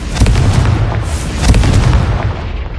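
Explosive Confringo fire spell blasts in Hogwarts Legacy on PlayStation 4 Pro, a dense run of loud booming bursts with peaks near the middle and start, layered over constant rumbling game noise.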